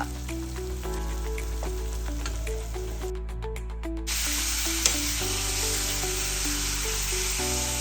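Minced keema with mint leaves sizzles steadily in a pan over a medium flame, a constant frying hiss with occasional stirring scrapes and a brief louder burst of sizzle partway through, with music playing alongside.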